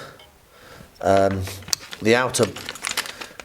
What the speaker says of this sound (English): in the toolkit there is the Allen keys, which should be the correct size, one would hope, for doing this task